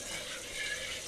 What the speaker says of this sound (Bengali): মাছগুলো সুন্দর মতো ধুয়ে নিচ্ছি এখন